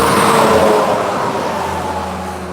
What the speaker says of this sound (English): Wait for this truck to go by.